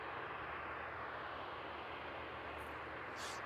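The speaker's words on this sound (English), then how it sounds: "the DHL service from Bahrain. Just landing out of shot there." A DHL cargo plane in from Bahrain landing at East Midlands Airport at night, its jet engines a faint, distant, steady broadband roar with no talking.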